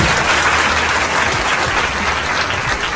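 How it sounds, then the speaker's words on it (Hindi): Loud, dense crowd applause at a Khan Sir UPSC batch launch celebration, a steady unbroken roar of clapping that fills the space from start to finish. "जोरदार ताली।"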